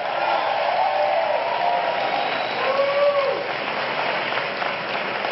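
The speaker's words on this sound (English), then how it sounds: "so give her a big round of applause" Audience applause at a presidential speech by Barack Obama in Cleveland, Ohio. A dense, steady wash of clapping fills the hall throughout, with a few faint cheers rising within it.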